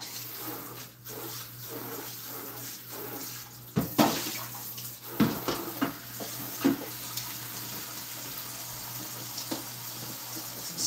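A kitchen tap runs steadily into a pot being filled with water for cooking zucchini, a continuous close splashing rush with a few louder surges and clunks as the pot shifts.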